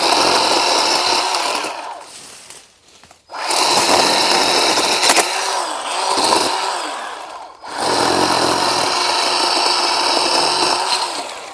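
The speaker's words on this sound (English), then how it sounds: "I was already impressed with this chainsaw, but after seeing it grind up against that fence post yesterday, and it's still cutting as decent as it is" A worn chainsaw, dulled after grinding against a fence post, runs loud and close while cutting wood, its buzzing whine bogging down and revving in long bursts separated by short idle dips.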